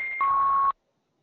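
Electronic beeping on a video call line, a steady tone that drops to a lower pitch partway through, then cuts off abruptly into silence.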